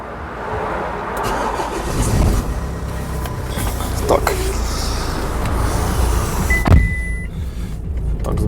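A 2010 Renault Koleos 2.0 dCi diesel engine cranks and catches, then idles with a steady low rumble; an electric whir and a brief tone appear near the end, with voices nearby.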